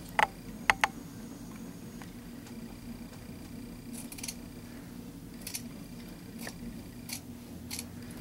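Scissors trim a sewn fabric seam close to the stitching, giving a few faint, sharp snips spaced apart over a quiet, steady background hum, with no talking.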